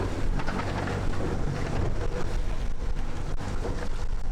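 Sailboat motoring at sea under engine power, a steady low drone and broadband wash of water and wind holding constant throughout with no voices.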